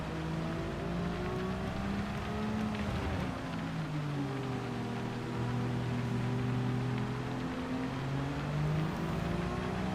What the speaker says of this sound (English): I do like the sound of the rain in this game